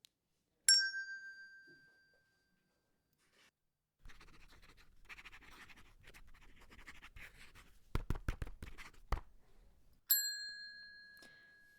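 A quiz contestant strikes a bright answer bell twice in a quiet classroom, each ring sharp and slowly fading, with faint scratching and tapping of writing in between.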